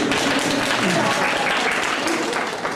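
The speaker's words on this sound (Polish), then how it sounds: "Brawa dla Majki." Applause for a child at a preschool event, a dense wash of clapping that runs steadily through the whole moment, with voices and chatter from the room mixed in underneath.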